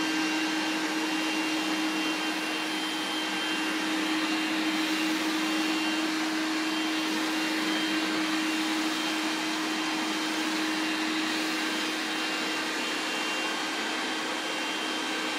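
A 1983 Hoover Sensotronic Total System 5 vacuum cleaner runs steadily and close by, giving a loud, even motor whine with a sustained tone and rushing airflow throughout, with no talking.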